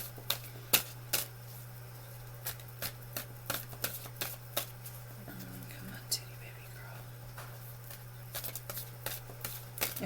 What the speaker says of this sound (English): Let me go ahead and shuffle these out.